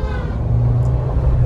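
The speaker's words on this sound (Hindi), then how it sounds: "एक बार देखो आप लोग थार का पिकअप" A Mahindra Thar on 22-inch alloy wheels with its engine droning at a steady, close, loud low rumble that builds slightly as it accelerates, with no talk over it.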